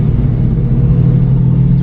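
A car cruises along a road, heard from inside the cabin as a steady, loud low rumble of engine and tyre noise that holds even throughout, with no talking.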